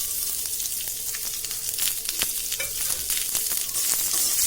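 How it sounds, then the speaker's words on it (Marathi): Chopped onion frying in a little oil for a spring onion bhaji, a steady broadband sizzle with sharp crackles and occasional stirring scrapes, close and fairly loud throughout. "यात कांदा भाजून घेऊ"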